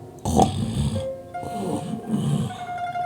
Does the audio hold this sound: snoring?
yes